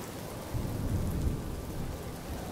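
Steady rain pouring with a low rolling thunder rumble in Honkai: Star Rail, a continuous dense hiss that swells slightly in the middle, with no voices.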